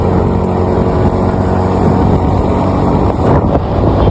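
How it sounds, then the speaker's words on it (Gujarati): A steady Honda Activa scooter engine drones on a road, mixed with constant wind rumble across the microphone; no one speaks. "એક્ટિવા એક્ટિવા લઈને જઈએ છીએ"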